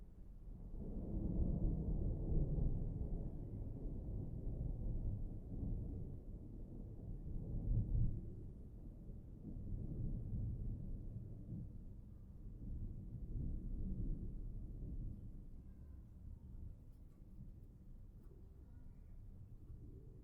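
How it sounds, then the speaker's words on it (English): Low rolling thunder rumbles steadily through a southern thunderstorm, a deep, sustained roar with swelling peaks that slowly fades toward the end, with no voices over it. "the storm is only just beginning."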